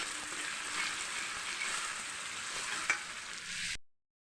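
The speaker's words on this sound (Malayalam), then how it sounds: "ഇഞ്ചി വെളുത്തുള്ളി ചതച്ചത് ഇടാൻ പോവാണ്. ഇതൊന്ന് മൂത്ത് വരുമ്പോഴാണ് ഉള്ളി ഇടുള്ളൂ" Crushed ginger and garlic frying in hot oil in a pan while being stirred: a dense, steady sizzle with occasional scraping, close and loud, ending abruptly.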